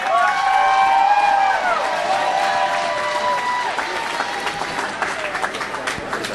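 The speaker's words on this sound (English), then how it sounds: "They have quite a ruckus crowd here tonight in the East Alton Ice Arena." A home crowd at the East Alton Ice Arena applauds and cheers before a high school hockey championship game. The clapping is loud and sustained, with whistles and shouts early on, then eases to steady applause.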